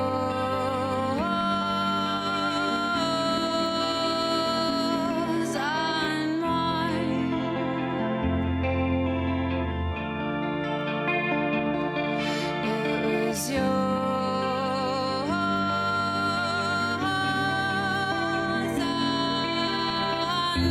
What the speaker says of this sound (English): That guitar, that sound is great.